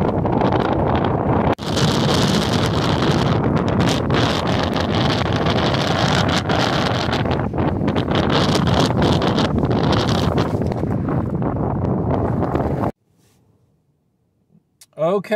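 Strong gusts roar steadily across the microphone at a campsite, buffeting a tent and a parked vehicle for several seconds before cutting off abruptly.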